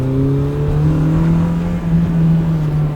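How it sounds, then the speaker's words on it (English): A BMW engine with an Eisenmann muffler and stock cats runs with a steady, loud, smooth tonal drone that rises gently in pitch, heard from inside the car with no talking. "Car sounds cool, exhaust is super quiet, it's got an Eisenman muffler on it"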